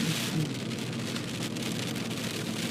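Steady rain falls loud and continuous while driving a road from Tillamook toward Bayocean on the Oregon coast, a dense wash of drops with no voices.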